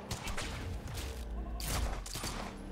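Gunfire in the game Quantum Break, a rapid volley of loud shots with deep booming impacts and mechanical clatter, repeated in close bursts without a pause.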